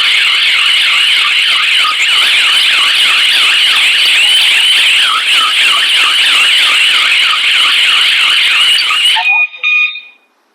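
A loud electronic SOS button alarm sounds continuously with a rapid warbling pitch for several seconds, then cuts off abruptly.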